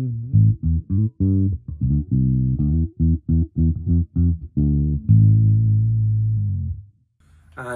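Deep, warm notes from a passive Sterling Pete Wentz Stingray bass with the tone knob off, played in a plucked riff with a dull, rounded tone, ending on a long sustained note, no talking.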